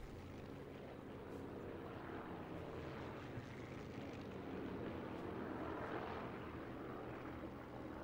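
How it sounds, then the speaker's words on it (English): Aircraft drone steadily over a battlefield in Sniper Elite 4, a broad, continuous propeller roar that swells slightly midway and fills the whole stretch with no pauses or voices. "For the planes to come by when he goes out of view."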